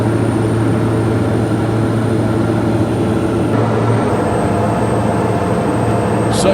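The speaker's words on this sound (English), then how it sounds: "Such a beautiful aircraft." A Pilatus private plane's engine gives a steady, loud drone with a low hum throughout, heard from inside the cabin while lining up for the runway at Key West, with no talk.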